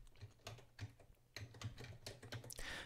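Typing on a computer keyboard, a quiet, close series of irregular key clicks and taps in short bursts with no talking.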